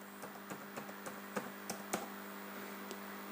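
A computer keyboard is tapped to enter a password, roughly a dozen light, irregular key clicks over a steady low hum.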